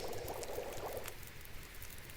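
Water boiling in a pot in the survival game The Long Dark, a steady bubbling simmer with soft liquid churning that eases off midway, heard alone at a moderate level.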